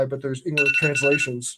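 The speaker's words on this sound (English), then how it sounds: "that's my alarm telling me that" A phone alarm rings with a steady, sustained electronic tone lasting about a second, partly overlapping someone speaking during a debate talk.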